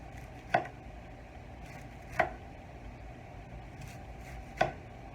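A knife thinly slicing cauliflower on a cutting board, heard as three sharp, separate chops spaced about two seconds apart over a quiet background.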